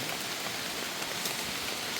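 Heavy rain falls steadily in a mountain forest, a dense even hiss of drops with no pauses, fairly faint and uniform throughout.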